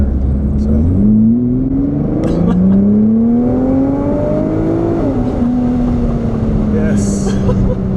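A 2017 Nissan GT-R Premium in race mode accelerates at low speed, its engine note rising in pitch through several steady sweeps, heard from inside the cabin beneath ongoing conversation.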